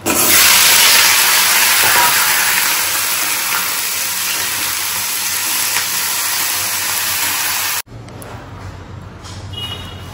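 Dried red chillies dropped into hot oil as a tempering for fried potatoes burst into a loud, dense, continuous hiss that eases slightly. The hiss cuts off abruptly near the end, leaving a quieter background.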